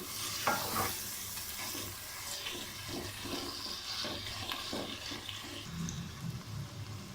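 Camel meat with spices being stirred and fried for haleem in a pot: repeated scraping stirs over a steady, close sizzle, with no talking.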